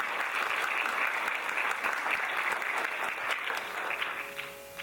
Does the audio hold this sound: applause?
yes